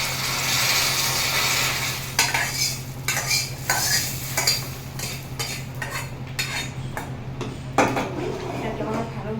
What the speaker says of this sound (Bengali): এটাকে আমরা ভালোভাবে নেড়ে চেড়ে নেব